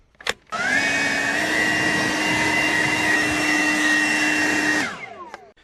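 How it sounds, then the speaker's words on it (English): A battery-powered turbo blower spins up after a click and then roars at a steady, loud, high whine for about four seconds before winding down and fading. "Now I gotta put some charged batteries in my CC blower here."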